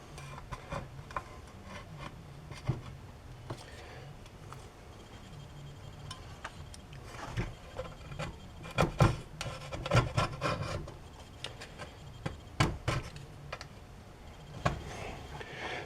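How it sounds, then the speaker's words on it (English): Old gasket being scraped off a Polaris Sportsman ATV pull starter case: close, irregular rasping and scratching strokes that come in short bursts and grow louder toward the middle, with no talking. "just take that old gasket off this case"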